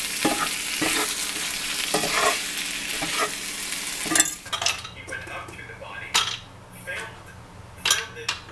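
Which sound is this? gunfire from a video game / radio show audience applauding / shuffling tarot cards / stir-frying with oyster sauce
stir-frying with oyster sauce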